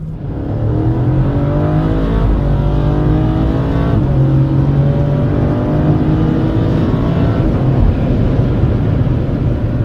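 A BMW F20 M135 fitted with an S63 twin-turbo V8 accelerates hard, its loud engine note climbing steadily through the gears for about ten seconds, heard up close from inside with no talk.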